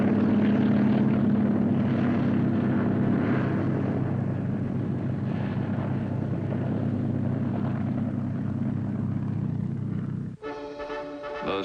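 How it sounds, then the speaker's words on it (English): A helicopter flies during a 1960s military amphibious landing, its loud, steady rotor and engine drone filling the scene and fading slightly before an abrupt cut to a different sound near the end. "Some will go by helicopter instead of landing craft."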